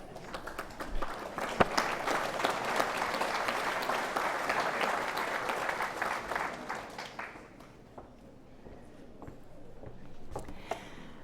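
Audience applause at a convocation ceremony, a dense, loud sustained clapping from a large crowd that thins out and fades toward the end.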